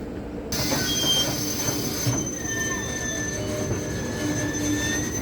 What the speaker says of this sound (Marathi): आताच मी ट्रेनमधून उतरलो आहे